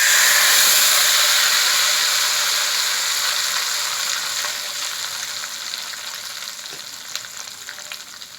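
Loud, bright sizzling of garlic tempering in hot ghee, a dense hiss that gradually settles and softens over several seconds, with occasional small pops.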